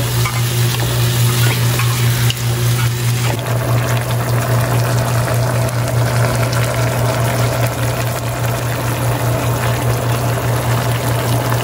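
Sauce of chili flakes and oil being stirred in a frying pan, a steady loud sizzle with scraping stir strokes and a constant low hum running throughout, no voices.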